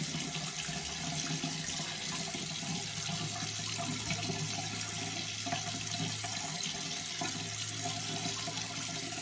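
Water runs steadily from a tap into a sink while it warms up for a straight razor shave, a constant close rushing splash with no break throughout.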